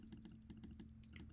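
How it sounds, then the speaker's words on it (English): Soft, quick clicks of a computer keyboard and mouse during gameplay, heard faintly and close up in an irregular patter with no talking. "I really hope the clicking's not annoying."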